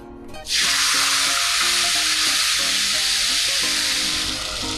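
Bay leaves fry quietly in oil for a moment before water is poured into the hot pan, setting off a sudden loud, sustained sizzle that stays steady, with faint stirring knocks beneath.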